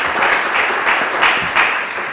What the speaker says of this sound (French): que vous allez fortement applaudir pour ces jeux